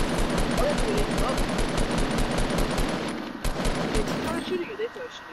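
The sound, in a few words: gunfire shooting at player in Fortnite video game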